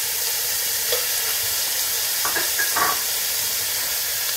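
Onion, four cloves of garlic and ginger stir-fry in hot coconut oil. An even, loud sizzle and hiss runs throughout, with a few brief scraping strokes of a spatula midway.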